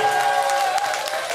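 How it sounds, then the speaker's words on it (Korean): Audience applause at an outdoor agricultural festival stage in Sacheon, a steady dense wash of clapping from a crowd that holds evenly throughout, with no voices over it. "여러분 한 번 더 박수 부탁드릴게요."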